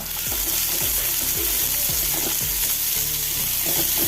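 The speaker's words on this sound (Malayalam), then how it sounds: "വെളുത്തുള്ളി ചെറുതായി അരിഞ്ഞെടുത്ത് കൊടുത്ത് അരയിഞ്ച് നീളത്തിൽ ഇഞ്ചി ചെറുതായി അരിഞ്ഞത് അത് വിട്ട് രണ്ട് സവോള നൈസായി അരിഞ്ഞത് വിട്ട് കൊടുത്ത് ഒന്ന് ഇളക്കി കൊടുക്കുക" Chopped garlic, ginger and finely sliced onion sizzle steadily in hot oil in a pan. A spoon or spatula scrapes through them in repeated regular strokes, close and loud, with no talking.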